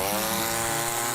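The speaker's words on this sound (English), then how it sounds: "This is a chainsaw message for you." A chainsaw runs at a constant, loud, buzzing pitch, close and steady throughout, with no voices over it.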